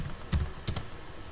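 Keystrokes on a computer keyboard while entering a command during a Git setup on Windows: a few quick, close taps in two short clusters, with no talking.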